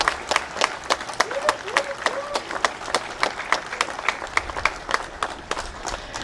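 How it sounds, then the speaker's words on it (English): An audience claps steadily at a 100th anniversary celebration for a cabin, a dense run of close, sharp handclaps with a few voices murmuring underneath. "Can you give them a big round of applause?"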